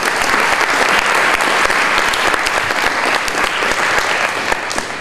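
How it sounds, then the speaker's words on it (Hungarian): An audience at a youth talent awards ceremony in Salgótarján applauds steadily, a dense and even patter of many hands that fades slightly toward the end. "a tapsot megérne"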